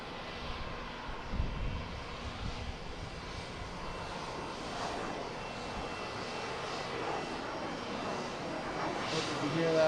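An airplane departing Harrisburg airport roars steadily in the distance, a broad low engine rumble sustained throughout at moderate level, with faint voices in the background.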